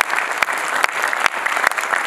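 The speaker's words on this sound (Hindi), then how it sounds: "बस इतनी सी तालियां जरा जोर लगाइए" Loud, sustained applause from an audience at a student street play on air pollution, a thick, even roar of clapping with periodic louder pulses throughout.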